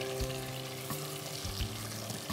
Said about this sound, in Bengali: এগুলোকে আমাদের ভালো মতো ফ্রাই করে নিতে হবে